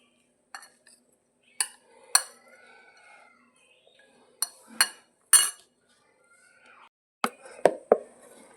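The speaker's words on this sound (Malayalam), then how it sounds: "നമുക്കിതൊന്ന് ഇളക്കി കൊടുക്കാം" A spoon working through a chili powder mango pickle mixture in a bowl, giving sparse, sharp clinks and scrapes in small clusters separated by quiet gaps, close and fairly soft.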